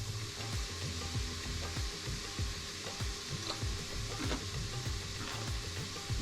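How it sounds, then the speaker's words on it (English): Chopped onions and celery stirred in hot bacon fat in a soup pot, a steady close sizzle with repeated spoon scrapes and knocks throughout, no talking. "you're going to go ahead and stir it up quick and get all those pieces coated in bacon fat"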